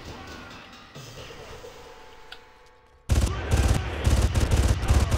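Gunfire in the Far Cry video game breaks out suddenly after a quieter stretch, as loud, rapid, repeated shots in close bursts that keep going to the end.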